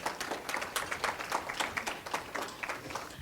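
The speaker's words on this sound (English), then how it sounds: "give yourselves a round of applause" Attendees at an elder advocacy and law boot camp give a round of applause, heard as a moderate crowd of distinct, irregular hand claps that carries steadily for a few seconds without talk.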